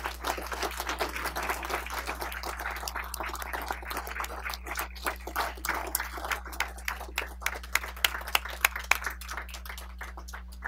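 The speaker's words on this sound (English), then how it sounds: "So we would like to give them both a round of applause, and especially Chuck as he departs in his new life." A public meeting audience claps for two departing colleagues, Chris and Chuck, in a fairly quiet round of applause with distinct individual claps and a steady low hum underneath.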